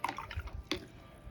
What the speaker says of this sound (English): He's watering the plants in the garden outside.